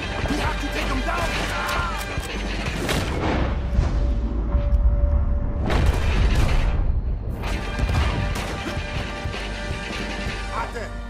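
Heavy booming cannon blasts and crashes from a Red Dead Redemption 2 battle, several loud explosive hits spread across the clip over constant rumbling noise.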